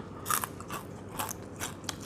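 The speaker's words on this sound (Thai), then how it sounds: "ฟันไม่ดีก็เคี้ยวได้ มันกรอบอะ" Crisp, crunchy chewing of deep-fried dried white scale fish soaked and drained before frying, a string of close biting crunches in an irregular rhythm, with no talk.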